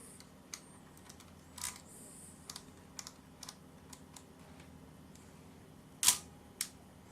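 A Nikon FE film camera's shutter fires at its mechanical 1/90 speed, heard as a sharp, fairly loud snap among scattered faint clicks and handling noises in a quiet room.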